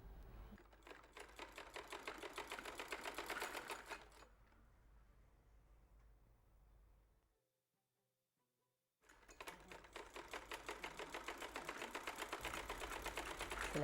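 A zigzag sewing machine runs in fast, even rhythmic bursts, pausing in the middle with a quieter stretch and a moment of silence before whirring again close by.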